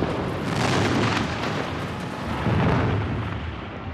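Bombs burst during the Blitz on London as deep, rumbling booms rolling into one another, heavy and muffled, with no voices over them.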